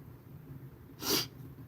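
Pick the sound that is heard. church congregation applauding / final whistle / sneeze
sneeze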